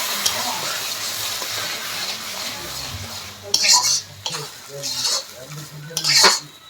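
Cabbage curry with katla fish head and spices being stirred in a pan: a utensil scrapes and clinks against the metal in uneven strokes, with a few louder clattering bursts near the end over a faint background hiss.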